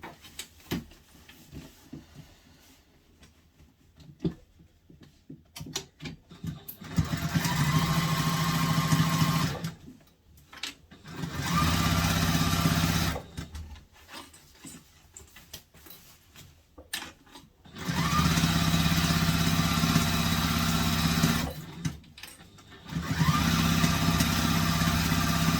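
A sewing machine bastes fabric pieces for a backpack in several loud, steady bursts of fast stitching separated by quiet pauses filled with soft handling sounds.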